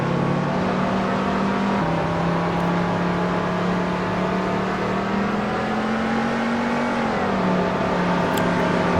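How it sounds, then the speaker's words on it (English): NASCAR Ford race car engine in a racing video game on an F1 track, holding a loud, steady high drone with slight pitch shifts as it shifts and backs off, no talking. "And that Ford engine is gonna roll on"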